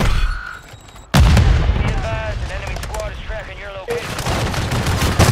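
Loud, close shotgun blasts and bursts of gunfire ring out in a Call of Duty match, with rapid shots layered over dense game sounds after a brief quieter moment.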